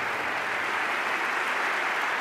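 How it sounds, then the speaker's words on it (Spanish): A steady wash of audience applause at an economic forum in Madrid, dense and even throughout, with no breaks. "Por favor, un fuerte aplauso."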